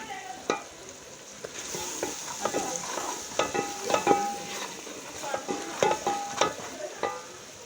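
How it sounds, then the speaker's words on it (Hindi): Chili, turmeric and salt roasting in a hot pan for aloo palak gosht, stirred with a spoon: continuous close sizzle and frying crackle with repeated sharp scraping and clicking strokes. "मसाले को अच्छी तरह से भूनेंगे"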